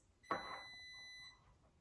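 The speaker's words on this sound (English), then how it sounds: "there's only 2 beeps, my bad. That's my dishwasher." A faint electronic beep from a dishwasher rings out once, holding a steady tone for about a second before cutting off, in a quiet room.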